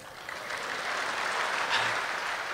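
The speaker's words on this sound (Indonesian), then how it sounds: "boleh tepuk tangan sekalian" A church congregation clapping together in a steady, even wash of applause that swells slightly and holds for a couple of seconds, fairly soft and diffuse in a large room.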